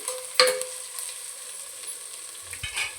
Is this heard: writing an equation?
no